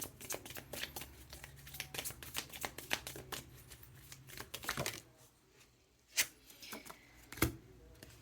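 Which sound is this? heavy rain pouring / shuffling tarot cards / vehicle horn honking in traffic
shuffling tarot cards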